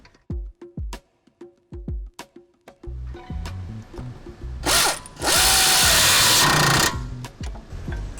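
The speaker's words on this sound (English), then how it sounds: "take your bottom bolt and tighten the bottom of the strut" A power tool drives the bottom strut bolt on a 2016-2022 BMW 740i rear suspension, first several short clicking ratchet bursts, then loud sustained whirring runs close by.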